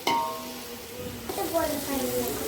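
Food sizzles and fries in oil in a pan while biryani is cooked, a close, steady crackling hiss with some stirring, and a voice speaks over it.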